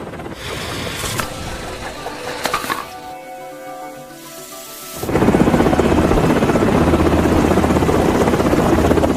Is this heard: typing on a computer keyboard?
no